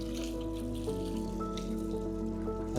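Farm spring water drips and trickles while vegetable roots are rinsed in a kitchen, a soft watery patter over a steady tonal hum, fairly quiet and without talking.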